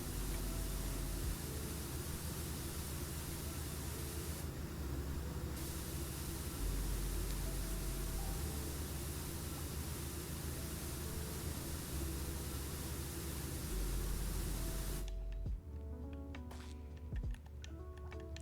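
A steady broadband hiss of a power washer spraying water in PowerWash Simulator, loud and continuous for most of the stretch, then cutting off near the end, leaving faint ticking.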